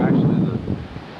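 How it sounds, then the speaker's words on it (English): Hurricane Fran's strong wind at Wrightsville Beach, North Carolina, blustering hard against the microphone as a steady low roar with gusty swells throughout. "The wind's still blowing, probably 80 to 100. I suppose you can hear it."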